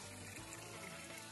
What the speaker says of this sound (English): Water's coming out, flowing really well.